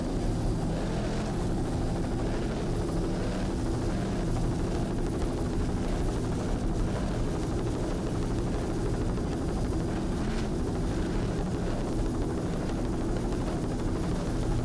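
A helicopter flies overhead, filming the 2003 Brick Offshore Grand Prix powerboat race. Its loud, steady rotor and engine drone runs unbroken the whole time, with no talk.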